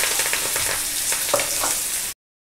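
Onions and curry leaves hit hot tempering oil in a pan, giving a loud, close, continuous sizzle with a few stirring clicks, cut off abruptly.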